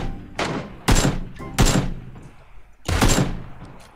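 Gunshots in the battle royale game PUBG come as a few loud, close, sharp bursts spaced about half a second to a second apart, with low thumps and background game noise in between.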